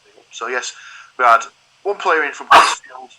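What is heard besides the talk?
sneeze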